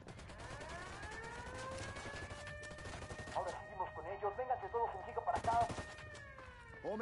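Rapid bursts of video game gunfire crackle over a rising electronic whine, with chattering effects and Portuguese voices underneath.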